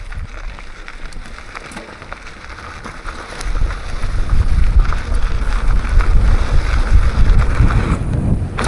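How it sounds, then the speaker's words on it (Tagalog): Strong wind buffets and roars at a mountain bike jump spot in Jeddah, quieter at first and then gusting harder and louder for the rest of the stretch. "Malakas ang hangin."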